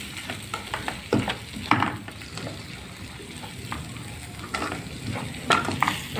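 Onion and carrot sauté lightly in a pan, giving a steady sizzle broken by scraping stirs and clatters of the utensil, close up with no talk.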